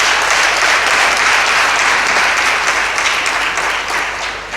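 A crowd in Ouidah gives a vigorous round of applause to welcome a government delegation, loud dense clapping that holds steady and then begins to fade near the end.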